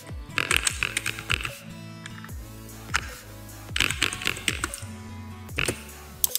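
Keys clatter on a computer keyboard while someone types a blog website entry, with close, quick bursts of clicks separated by short pauses over a tonal background.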